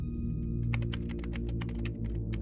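A game character typing a password on a computer keyboard, with a quick run of clicky keystrokes over a steady low background hum.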